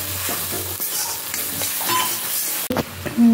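Mustard and green chili paste sizzles and fries in a pan while it is stirred, a bright steady crackle with scraping strokes and a brief clatter near the end, with no voices.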